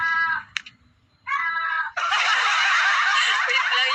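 A cat yowls close by indoors: two short wavering wails separated by a pause, then a louder, harsher drawn-out cry that holds to the end.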